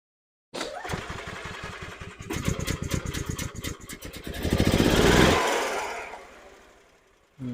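A 2012 EZGO TXT golf cart gas engine cranks, catches and runs roughly and close by with a fast chugging beat. It revs up into a louder surge, then winds down and stops.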